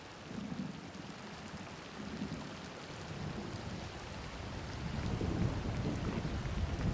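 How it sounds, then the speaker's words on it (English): Steady heavy rain of the November rainy season in the East African savanna, a dense continuous hiss with low rolling thunder rumbling underneath, swelling louder toward the end. "In November, the rains return."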